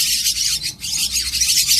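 Javan myna (jalak kebo) chick begging with continuous shrill, raspy high-pitched calls while being hand-fed, loud and close, with a brief dip midway.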